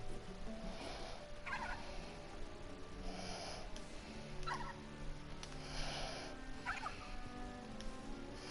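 A turkey in a King's Quest video game gobbles repeatedly, the rattling calls arriving in regular bursts about every one and a half seconds over a steady background murmur, with no speech.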